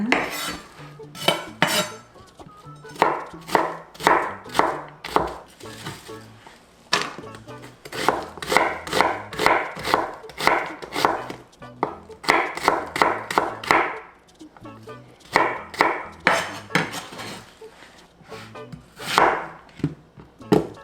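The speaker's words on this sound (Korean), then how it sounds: "양파 300g 채 썰어줄게요 채 썰어서 한번 잘라줍니다" A knife julienning 300 g of onion makes rapid, rhythmic chopping strokes in several close, crisp bursts separated by short pauses.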